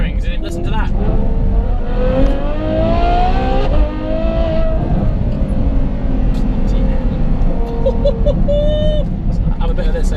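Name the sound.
Ferrari F12 Novitec N Largo engine revving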